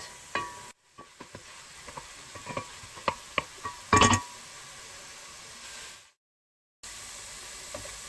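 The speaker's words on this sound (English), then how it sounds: "I'll cook the garlic for a little bit as well, until it's a little soft." Garlic sizzles in a pan for a traditional Turkish eggplant dish, a steady close frying hiss broken by scattered taps and clinks of stirring, with a louder scrape partway through and a short silent gap near the end.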